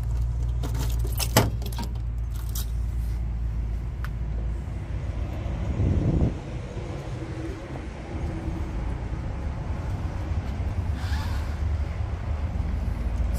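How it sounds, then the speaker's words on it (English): Keys jangle and click close by as the trunk of a 1979 Pontiac Trans Am 400 is unlocked and opened, a sharp rattle early on followed by quieter handling and low background rumble. "Let's see if we can get the trunk open here."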